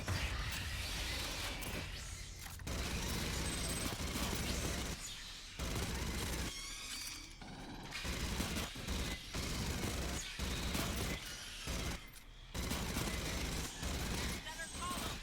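Repeated bursts of gunfire in Aliens: Fireteam Elite, loud and dense, broken by short pauses, with voices talking over the shooting.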